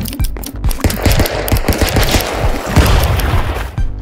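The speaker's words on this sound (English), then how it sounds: "I just decided that I wanted to kill you with my shotgun!" Rapid, loud bursts of shotgun fire from the video game Stick Fight, shots piling up densely and continuously with booming low thumps, and no voices.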